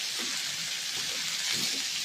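Onions sautéing in a pan while preparing Kanchipuram idli, a soft steady sizzle with faint stirring, fairly quiet and without speech.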